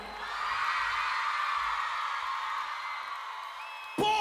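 Concert crowd at a live show, screaming continuously as one loud sustained roar that holds for several seconds, then a sudden loud burst near the end.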